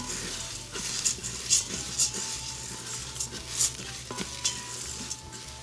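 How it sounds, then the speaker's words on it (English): A spoon stirs rice through hot oil in a stovetop pot for Mexican red rice, with steady sizzling underneath and a series of scraping, clinking strokes repeating every second or so, close up and with no talking. "You want to stir your rice to coat with the oil that we've added"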